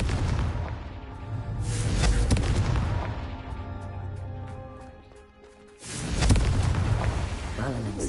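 The Confringo blasting spell is cast in Hogwarts Legacy, giving heavy rumbling explosive booms that swell, fade to a lull and then erupt again loudly with a deep roar.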